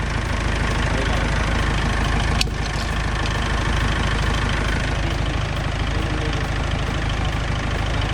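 A Mitsubishi Triton 2500 diesel pickup engine idles steadily after a jump start, with a loud, even clatter and a brief sharp click early on.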